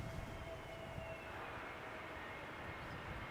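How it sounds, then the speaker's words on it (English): An easyJet Airbus A320neo arriving from Prague lands at Schiphol, giving a steady, distant roar of jet engine noise that holds at an even level throughout with no talk. "easyJet A320 Neo arriving from Prague"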